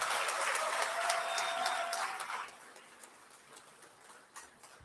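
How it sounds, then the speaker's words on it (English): Applause from a crowd at an alumni award ceremony, steady and fairly loud for a couple of seconds, then tapering off into scattered claps and quiet room noise. "Let's all give her another round of applause."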